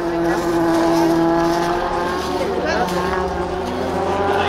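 A Toyota Celica races in a bilcross event at Bø, its engine roaring loudly and steadily with shifting pitch as it passes, with a commentator's voice running over it.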